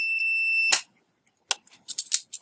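A multimeter in continuity mode gives one steady electronic beep lasting under a second, tested on the hot line of an AC power supply. Short bursts of talk and handling noise follow.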